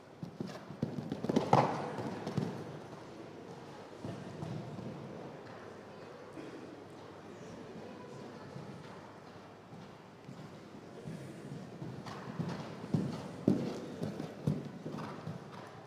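A mare's hooves walk steadily in a riding arena, producing a soft continuous clip-clop under faint room noise with a few distant voices.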